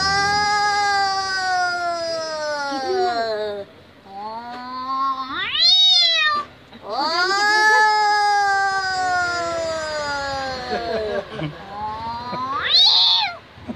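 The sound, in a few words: woman imitating an angry cat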